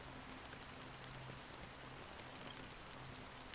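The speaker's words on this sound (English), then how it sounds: "Amidst the fine drizzle of black rain" Fine drizzle falls steadily in Honkai Star Rail, a soft, even hiss of rain with a faint low hum beneath and no voices.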